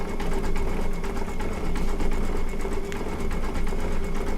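An embroidery machine stitches a penguin quilt block with a fast, steady mechanical chatter and rapid needle rhythm, loud and close with no voices.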